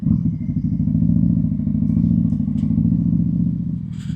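A motorcycle fitted with a 3030 cam idling along at low RPM, a loud, close, steady low rumble with a slightly uneven, jerky pulse throughout.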